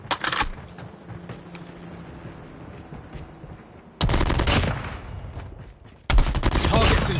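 Heavy automatic gunfire in Call of Duty Mobile multiplayer opens with a loud burst, goes quiet amid distant in-game sounds, then returns in two long, close, sustained bursts of rapid shots.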